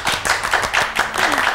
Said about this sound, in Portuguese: vamos receber aqui com uma salva de palmas da plateia